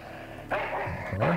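A dog in the adventure video game Full Throttle gives two short barks close up, one after a brief quiet lead-in and another a moment later.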